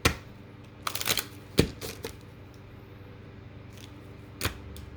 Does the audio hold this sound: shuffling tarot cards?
yes